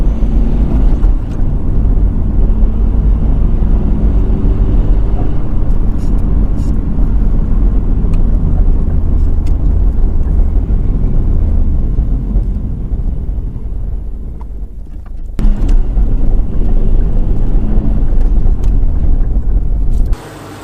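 A 2002 Subaru WRX STi Prodrive Edition on a test drive roars through hard acceleration, loud and close from inside the cabin, with rising and falling engine tones, a brief dip and a gear change before pulling hard again.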